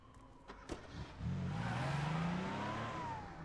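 A car engine revs in The Crew video game, a rising, droning engine note that swells after a few clicks, holds for a couple of seconds and then eases off, with no talking.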